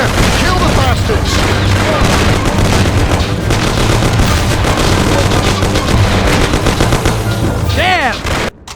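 A chaotic shootout in the crime game Mafia: loud, continuous bursts of gunfire and booming shots pile up across the whole stretch, with shouting voices mixed in, before the din cuts off abruptly at the end.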